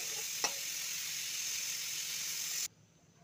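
Fuchka puris frying in hot oil, a steady broadband sizzle that holds evenly for over two seconds with one small pop early on, then cuts off abruptly into near silence.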